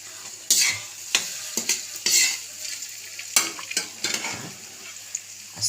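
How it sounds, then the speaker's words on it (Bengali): Cooked rice being stirred with sugar in a sizzling frying pan, with repeated scraping strokes of a spatula over a constant close hiss and no talk. "চিনি দিয়ে একটু নাড়াচাড়া করে এই যে আমি ভাত বানিয়ে রেখেছিলাম, রাইসটা এর মধ্যে দিয়ে দেবো।"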